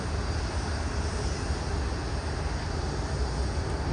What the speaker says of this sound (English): seeing ANA's 50th 787 just taxiing past